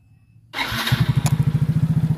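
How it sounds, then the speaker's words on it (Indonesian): A Yamaha X-Ride motorcycle engine cranks and starts, then settles into a steady, rhythmic idle with regular low putts, close by. "suara mesinnya suara khas dari mesin-mesin Yamaha"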